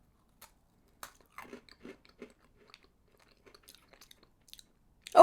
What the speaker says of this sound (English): I'm going to try a cookie by itself.